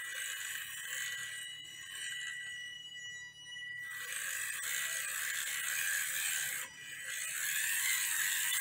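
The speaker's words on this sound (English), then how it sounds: "So I'm going to give it a little spin to get the motor turning in phase, so the magnets keep pointing north." A homemade compass magnet motor spins after a hand start, giving off a steady fast ratcheting whir with a light mechanical clatter. It carries on for several seconds, with two brief dips in level along the way.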